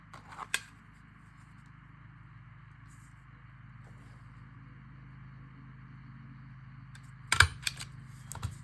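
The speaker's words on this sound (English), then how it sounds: "There, so those are all stapled." A stapler snaps through a small cardboard candy box being made into a micro notebook, with a single sharp click near the start and a louder cluster of clicks near the end, separated by a long quiet stretch.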